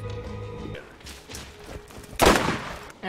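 Gunfire in the video game Borderlands: a sustained burst of shots with a loud, heavy blast near the end, over game noise and a brief tonal sound at the start.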